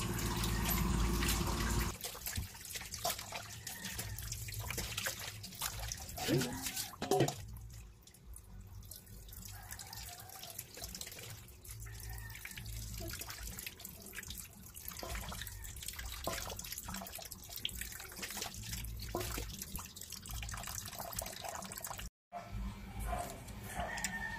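Pork intestines (isaw) are washed under a running tap in a sink, with steady rushing water, splashing and handling sounds close by; a dog is audible at times and the flow continues nearly throughout.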